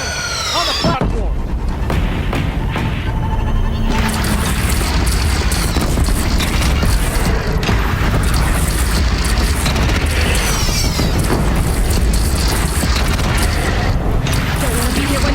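Cannon fire and explosions from a battle on a platform in the video game Horizon Zero Dawn, a sustained, loud barrage of deep booms and bursts layered with dense effects over fifteen seconds.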